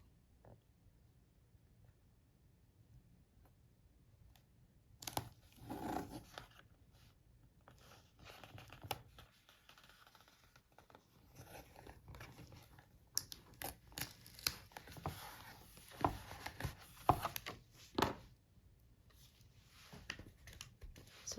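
Washi tape torn by hand in a quiet room while a goal journal planner is set up: a few short, crisp ripping crackles in brief bursts, close and fairly soft, with no talking.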